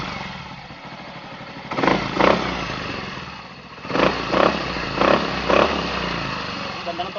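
The engine of a Mio i 125s motorcycle idles after a valve clearance tune-up, a steady mid-pitched putter with rhythmic swells, heard close with faint voices and clatter around it.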